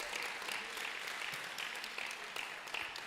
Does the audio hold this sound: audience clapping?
yes